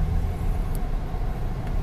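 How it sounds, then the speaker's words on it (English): Steady low rumble of city highway traffic in Columbus, cars idling and creeping nearby, continuous and fairly loud with no voices. "So I'm bored and stuck in traffic because somewhere along the lines I forgot that cities are busy."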